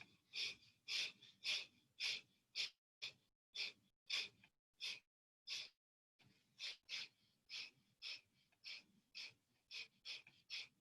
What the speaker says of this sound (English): Take an inhale, and let's begin breath of fire.